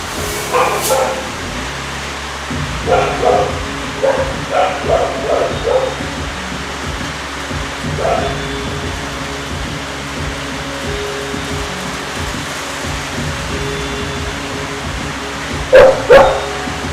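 Several dogs bark in repeated loud bursts at a hissing fog machine during a July 4th eve livestream, the yaps and whimpers clustered early and again near the end over a steady hissing background.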